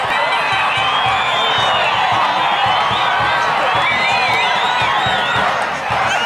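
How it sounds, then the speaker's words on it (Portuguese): Football supporters at an amateur Inhapim championship match roar and whoop after Pingo d'Água scores to lead 4-1 over Fernandes Tourinho, a dense, loud, sustained crowd cheer with scattered shouts. "Torcida comemora 4-1 para Pingo d'Água."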